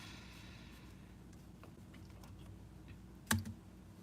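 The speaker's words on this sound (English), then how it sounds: "let's get back into typing" Soft, sparse keystrokes tap on a computer keyboard while taking class notes, quiet and close with no talking, and one firmer knock near the end.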